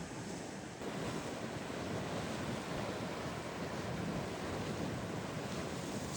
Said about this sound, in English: The surf picked up a little bit.